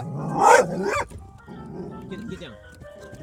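Bubba the pet dog gives a loud close bark, then low growling and grumbling while a person scolds him over the noise.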